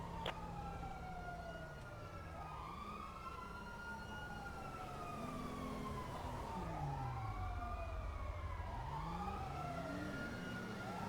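An ambulance siren in the video game GTA 5 wails with repeated rising and falling sweeps. It is steady and fairly close over a low vehicle rumble, with no talk.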